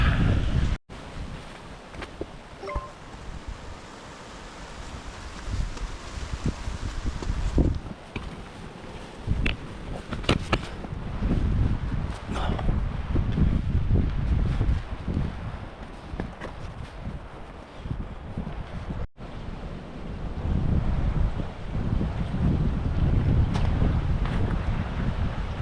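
Gusty wind buffets the microphone during a hike in Patagonia near Refugio Hielo Azul amid light snow flurries, roaring in uneven surges with crunching footsteps and brief handling bumps, no voices.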